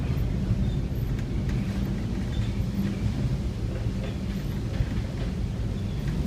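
A 3,400-ton vessel sailing through a storm in the North Sea: a continuous heavy roar of wind and churning waves with a deep low rumble, steady throughout.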